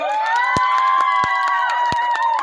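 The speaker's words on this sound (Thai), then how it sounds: "ขอเสียงปรบมือครับ" An audience at a dwarf buffalo beauty contest in Kantharawichai district, Thailand, cheers with sustained voices. A few sharp claps break through the steady, loud crowd noise.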